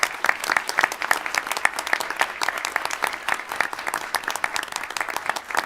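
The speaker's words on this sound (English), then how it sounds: "Give me a round of applause." Audience at a school board meeting applauds students commended for outstanding academic performance, a steady wash of many hands clapping at close to moderate distance, sustained throughout with no talking.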